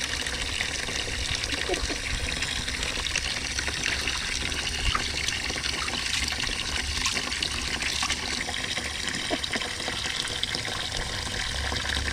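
Water trickling and splashing steadily as a lizard is bathed, a soft continuous wash of running water with small splashes, fairly faint throughout.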